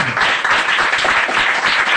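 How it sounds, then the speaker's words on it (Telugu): A church congregation claps loudly in praise, a dense, continuous round of many hands ringing close and full for about two seconds. "ఒకసారి గట్టిగా చప్పట్లు కొడుతూ దేవుడి స్తోత్రం"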